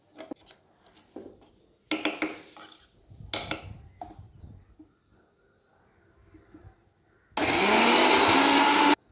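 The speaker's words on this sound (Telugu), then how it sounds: "మళ్ళీ ఒకసారి గ్రైండ్ చేయండి" A mixer grinder churns bael fruit chutney in a loud, continuous whir that starts near the end, after several short bursts of scraping and clattering from the jar and spoon.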